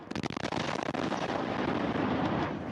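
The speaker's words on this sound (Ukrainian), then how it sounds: "Звичайну гру у футбол в одному з районів спершу перериває гул шахедів, а потім вибухи" Explosions strike Kharkiv during a Shahed drone attack: a few sharp bangs open into a loud, continuous roaring rumble that fills the whole stretch, heard from a distance without talk.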